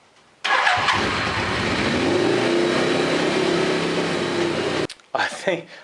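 Suzuki GS850 motorcycle engine starting and running rough while warming up, a loud, continuous uneven drone with slight revving that cuts out abruptly, followed by a brief burst of sound.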